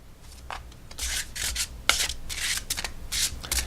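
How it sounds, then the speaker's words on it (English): An oracle card deck is shuffled by hand in close, dry bursts of rubbing and riffling, the cards scraping and fluttering in uneven strokes with brief pauses between. "let's see how it shuffles."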